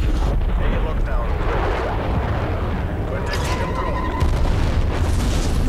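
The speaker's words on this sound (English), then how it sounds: "I think that was an napalm strike?" A napalm strike explodes in Call of Duty Black Ops Cold War multiplayer, a loud, sustained rumbling roar and burst that fills the scene, with game noise and voices talking over it.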